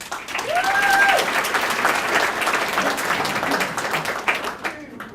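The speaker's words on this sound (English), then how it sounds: "you should give yourselves a round of applause for that" Audience applause fills a Senior Olympics awards ceremony in Bay County, a dense, steady clapping from a large crowd that swells early, holds throughout and tapers near the end, with a brief whistle-like tone rising above it.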